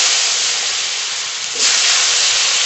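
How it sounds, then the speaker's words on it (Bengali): Potatoes frying in leftover oil from koi fish in a Bengali village kitchen, giving a loud, steady broadband sizzle with a brief surge of hiss partway through, no voices. "আলুটা আগে ভালো করে ভেজে নেব"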